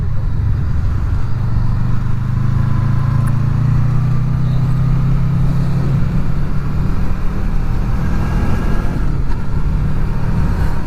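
A Honda VFR800 motorcycle engine drones steadily while riding, with continuous low rumble and wind noise and no talk.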